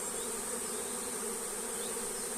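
Dense, continuous buzzing of many honey bees at a hive with old frames, loud and close, a steady drone with no pauses.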